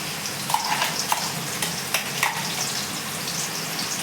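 Ground ginger, garlic, onion and green chilli paste frying in a pan for fish curry, a close steady sizzle broken by a few sharp spattering pops and stirring clicks, with no voices.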